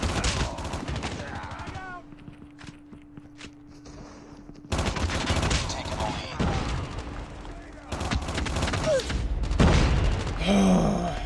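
Gunfight in a Call of Duty Mobile ranked match, with rapid automatic gunfire in loud bursts separated by a quieter gap, scattered single shots, and a player groaning and talking through the exchange.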